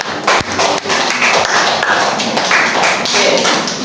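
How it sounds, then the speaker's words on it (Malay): A classroom of students claps hands together, a loud, dense burst of close, steady applause lasting several seconds with no voices over it. "Okey, berikan tepukan pada kita"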